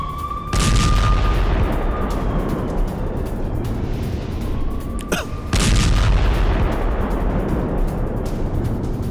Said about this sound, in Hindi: राफा बॉर्डर के पास आईडीएफ ने बम बरसाए हैं।